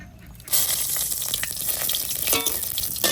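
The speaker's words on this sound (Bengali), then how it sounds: "এই শুকনো লঙ্কা কটা ভেজে রাখবো" Dried red chillies frying in mustard oil in a karai, a steady bright crackling sizzle that starts abruptly after a brief quiet moment and holds close and loud.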